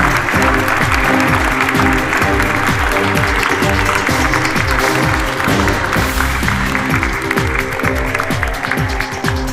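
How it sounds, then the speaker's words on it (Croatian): Loud sustained audience applause greets the newly crowned Miss Universe Croatia at the 2022 final, dense clapping filling the hall over backing music. "molit ću jednim velikim pljeskom pozdravite novu Miss Universe Hrvatske"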